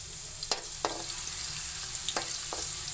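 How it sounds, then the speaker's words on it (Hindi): Garlic and cluster beans fry on low heat in a pan, giving a steady soft sizzle broken by a few sharp clicks and scrapes of stirring, close up with no voices. "दो से तीन मिनट इनको फ्राई करते हैं हल्की आंच पे।"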